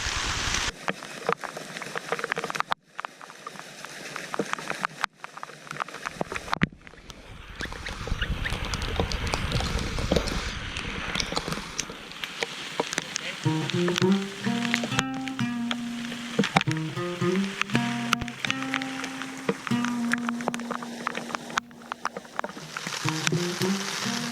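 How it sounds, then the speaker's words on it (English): Heavy rain drums steadily on a campsite tarp, a dense, close patter that runs without a break, with some brief tonal sounds partway through. "The rain is still just coming down in buckets."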